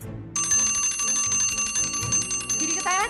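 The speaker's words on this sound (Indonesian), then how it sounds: "Buruan tuh udah bel." A school bell rings continuously, a loud rapid metallic clanging with steady high overtones that starts abruptly after a short muffled moment and keeps going throughout.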